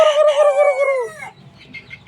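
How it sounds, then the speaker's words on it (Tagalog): Roosters kept on a small home farm crow outside, one loud, near cock-a-doodle-doo lasting about a second, then fainter clucking and distant bird calls. No one speaks. "ito yung mga barako sa labas"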